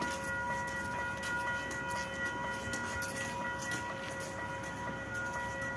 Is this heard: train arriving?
yes